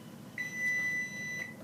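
A kitchen oven timer beeps while pie shells for a crab quiche bake: a clear, steady electronic tone in a quiet room, sounding for about a second with a short blip at each end.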